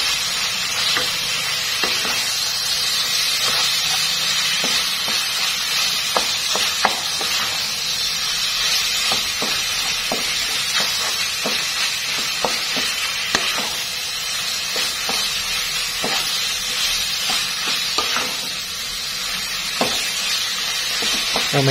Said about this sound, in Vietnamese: Xào thịt cho nó tơi ra.